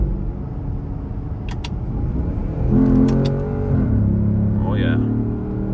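A Porsche sports car's engine rumbles loudly from inside the cabin while downshifting, the revs rising in a brief blip and then settling into a steady drone, with talk underneath.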